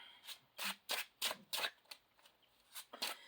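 Gold foil tarot cards being shuffled close up in a quiet room, a run of about ten quick crisp riffling bursts in an uneven rhythm.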